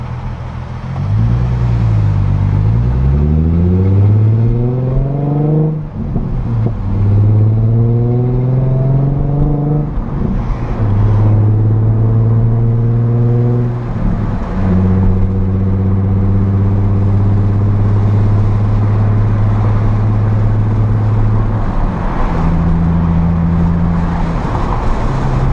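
Nissan 350Z fitted with a Tomei burnt titanium exhaust driving between fences and trees, engine loud and close, revving up through several gears with rising pitch sweeps and short shift breaks, then holding a steady drone.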